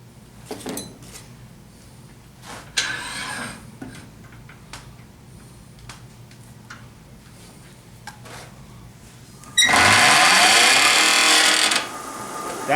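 A wood lathe spins up while turning a 3/8 inch tenon on a Christmas ornament. Scattered knocks and clicks come first, then a loud whirring burst runs for about two seconds near the end before cutting off.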